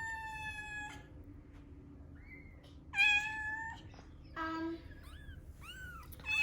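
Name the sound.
mother cat meowing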